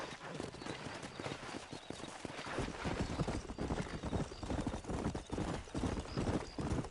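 Horses galloping in the Red Dead Redemption video game, a continuous rapid clip-clop of hooves across the whole stretch, with an occasional whinny under the steady pounding rhythm.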